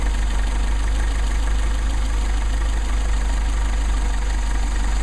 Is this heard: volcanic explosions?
no